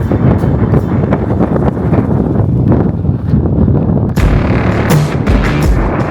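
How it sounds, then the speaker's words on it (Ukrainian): Strong squall wind on a mountain ridge buffets the microphone, a loud, continuous rumbling roar with gusty surges and no voices. "йдеш отак проти вітру"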